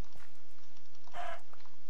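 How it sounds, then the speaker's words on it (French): Chickens cluck in a block-building survival game: one short, fairly clear cluck burst rises near the middle over a quiet, faintly pattering background, with no talking. "On a des poules encore."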